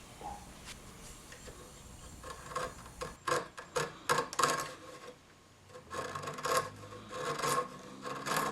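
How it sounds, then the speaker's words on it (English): A file rasps over the wood of the truss rod nut pocket on a handmade mandolin, in short, uneven strokes that turn louder and more rhythmic in the second half, close to the microphone. "Now I'm cleaning up the truss rod nut pocket"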